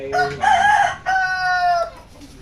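A chicken crowing close and loud in two long drawn-out calls with clucks between them, heard clearly on its own.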